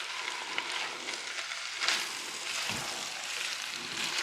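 Wet minced garlic from a jar sizzles in a frying pan with aromatics for a chicken pot pie gravy, a steady, close, loud frying hiss with occasional stirring.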